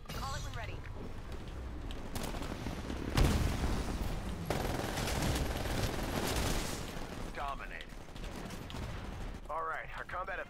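Gunfire in the game Titanfall crackles in bursts over a constant mechanical background, with a sharp louder volley in the middle and chirpy electronic sounds drifting in and out.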